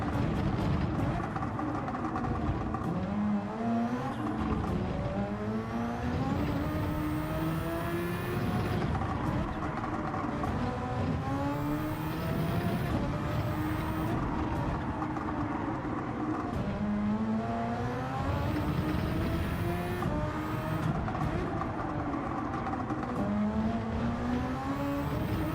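Super Formula 2019 race car engine at Fuji in a racing game, a high revving open-wheel engine climbing and upshifting repeatedly with rising pitch sweeps, continuous and loud, with tire noise and speech faintly underneath.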